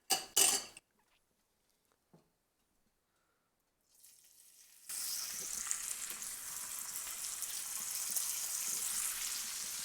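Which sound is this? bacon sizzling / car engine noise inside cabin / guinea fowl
bacon sizzling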